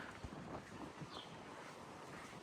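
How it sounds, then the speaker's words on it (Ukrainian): Wind buffets the microphone in a low, rushing roar, gusting unevenly for a couple of seconds. "Вітер."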